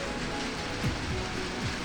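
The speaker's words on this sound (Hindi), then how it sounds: "और बिल्कुल जस्ट हमने रूम लिया है और बारिश शुरू हो गई है" Heavy rain falls steadily in Yamunotri in the Himalayan mountains, a dense, continuous hiss of drops striking surfaces, heard close and loud with no voices.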